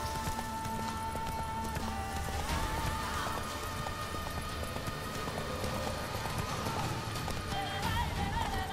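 A horse gallops in The Witcher 3 video game, with a quick, steady clip-clop of hooves running throughout alongside game music and ambience.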